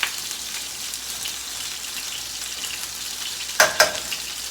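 Red potatoes and smoked sausage frying in a pan give a steady, even sizzle that continues throughout, with a couple of brief clinks or stirring knocks near the end.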